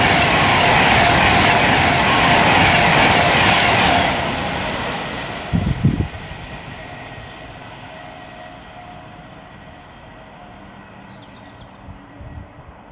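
An Avanti West Coast Class 390 electric train on the West Coast Main Line at Lichfield Trent Valley roars past loudly and close, a broad rushing rumble that fades away after a few seconds, with a brief clatter and a quieter tail.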